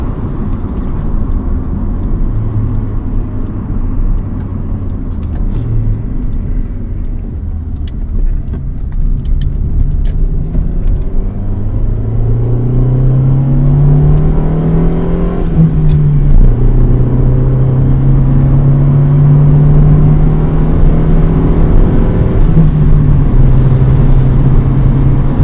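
A classic Honda car cruising on a road, its engine rumbling steadily with rising and falling gear tones as it accelerates and shifts, loud and close throughout, with no talking.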